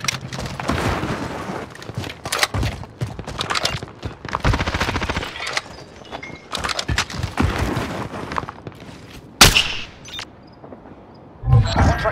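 Rapid automatic gunfire crackles in a shooter video game, with loud dense bursts, short pauses and a few sharper standalone shots toward the end.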